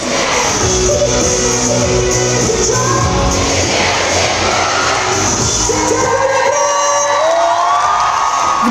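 A concert crowd at a show in Dnipro roars with loud cheering, whoops and shouts, a dense continuous wall of voices that stays strong throughout.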